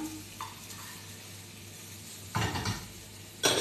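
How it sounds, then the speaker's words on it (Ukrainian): A soft sizzle from pancakes frying in a pan hums steadily, broken by two short bursts of louder hissing and scraping. "смажу млинці"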